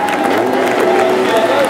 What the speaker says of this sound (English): listening to an appreciative crowd